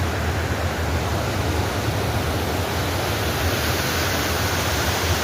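Water pours over the Anantapur check dam waterfall in a dense, unbroken roar that stays loud and even throughout, with no voices.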